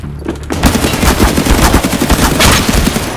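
Rapid automatic gunfire rattles close and loud in Escape From Tarkov, a long continuous burst of many shots without pause.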